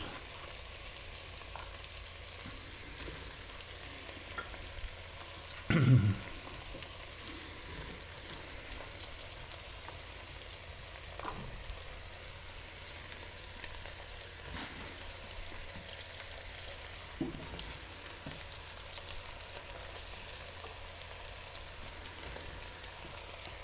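Leeks frying in a pan, a soft steady sizzle with one louder scrape of stirring early on and faint occasional clinks, heard close but quiet, no voices.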